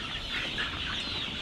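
Chickens on a chicken farm cluck and murmur in a steady, busy flock chatter, moderately close and continuous, with no talk over it.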